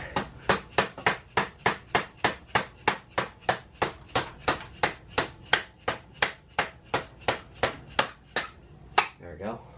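A long run of evenly spaced hammer strikes on a metal punch, close and sharp, keeping a steady rhythm for nearly ten seconds before stopping, while removing a bent axle from a Sur Ron electric motorbike.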